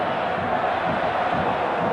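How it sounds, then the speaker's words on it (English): A football stadium crowd at Juventus versus Inter roars in a dense, continuous wash of cheering and chanting, with no single voice standing out. "The crowd doing their best to raise their team's morale"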